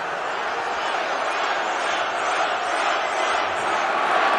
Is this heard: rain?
no